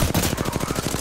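A fast, steady burst of video-game gunshots striking the player, a tight rattling run of about a dozen evenly spaced hits with no pause.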